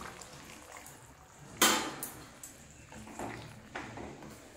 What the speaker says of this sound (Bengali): এর মধ্যে আমি এখন দিয়ে দিচ্ছি এই যে তেঁতুলের জলটা।